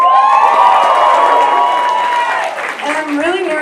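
A park stand-up audience cheers and claps for a nervous first-time comedian, with the noise fading to leave her talking.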